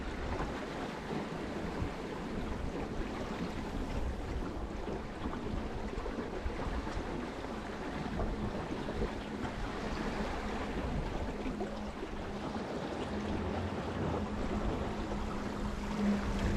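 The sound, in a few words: boat outrunning waves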